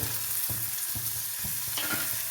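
A cabbage stir-fry with onion and salt is stirred in a pan, with regular scraping strokes of a spoon about every half second over a soft, constant sizzle.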